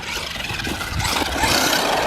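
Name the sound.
brushless RC dune buggy BSD Racing CR-218R driving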